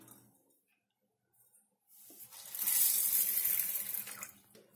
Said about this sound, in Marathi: त्याच्यामध्ये डाळ टाकायची, स्वच्छ डाळ धुवून घ्यायची.